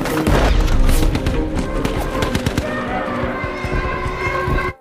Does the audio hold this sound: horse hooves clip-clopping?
no